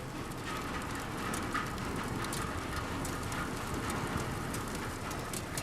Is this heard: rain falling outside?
yes